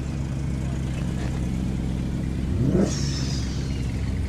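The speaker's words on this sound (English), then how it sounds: "Oh, here's the Peugeot 309 just leaving." Peugeot 309 GTI classic car pulling away at a car meet, a low engine rumble that swells briefly into a revving pass before fading, over steady background noise.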